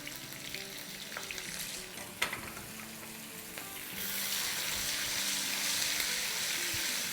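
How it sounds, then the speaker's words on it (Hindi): Ginger and garlic paste with green chillies sauté in a hot pan, giving a steady sizzle that swells louder and hissier partway through, with a single sharp clink of a utensil. "बस 30 सेकंड सौटे करेंगे इसको हम"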